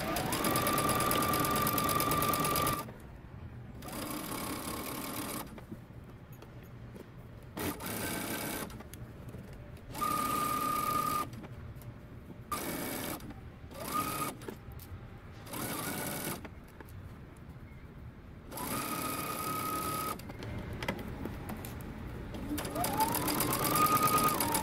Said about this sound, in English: now we're going to stitch using 5/8 of an inch seam allowance.